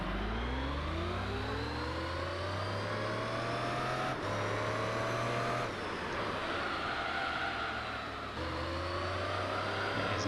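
A race car engine in the video game Gran Turismo 3 drones loud and close, its pitch climbing through the gears with brief dips at each shift as the car races laps.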